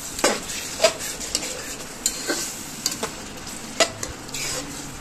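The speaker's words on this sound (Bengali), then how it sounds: "দেখতে পারতেছেন আমরা নাড়তেছি আস্তে আস্তে" Duck meat with ground garam masala stirred slowly in a hot pan: a steady sizzle with spoon scrapes and clinks recurring every second or so, close and fairly loud, with no voices.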